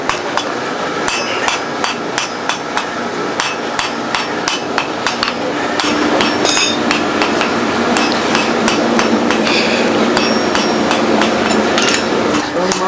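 A blacksmith hammers a forged iron spear point on the anvil, a rapid series of sharp metallic strikes, loud and close, with steady rhythmic blows continuing throughout.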